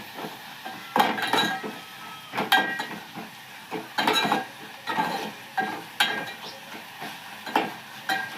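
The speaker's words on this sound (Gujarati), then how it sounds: "થોડુંક મીઠું નાખીને હળદર નાખીને હવે આમ હલાવી નાખીએ" Fenugreek greens stirred in a pan with salt and turmeric, a spoon scraping and clinking against the metal in repeated bursts with a faint sizzle underneath.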